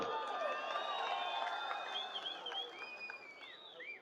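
A crowd at a Congress political rally claps and cheers, the applause fairly faint and distant, with scattered shouts and whistle-like calls over the clapping that gradually tapers off.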